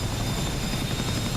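Helicopter flying in the DCS flight simulator game, a steady, loud engine and rotor drone with dense low thumping, continuous and unbroken, no voices.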